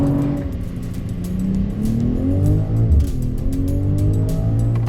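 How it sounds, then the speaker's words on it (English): A BMW M340i's 3-litre turbocharged straight-six petrol engine revs up and down in smooth, rising and falling sweeps, loud and close, with no voices. "Such a gem, 6-cylinder, straight 6, and just sounds glorious."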